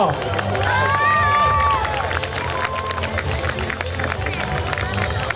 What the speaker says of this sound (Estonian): Ja võib plaksutada